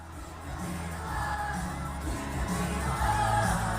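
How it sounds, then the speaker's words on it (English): A crowd cheering for a DJ set in Boston, steady roaring mass of voices with whoops and shouts rising slightly toward the end, heard at a moderate distance. "Everybody's cheering."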